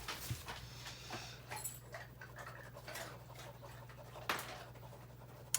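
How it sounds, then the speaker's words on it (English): A dog whimpers and fusses under a desk in a quiet room, giving faint, scattered whines and small squeaks over a steady low hum. "My friend Paisley is having like a conniption under my desk."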